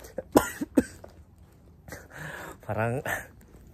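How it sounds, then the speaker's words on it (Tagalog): Two sharp coughs near the start, followed by a person talking. "Parang ayaw nang tumigil yung ubo natin."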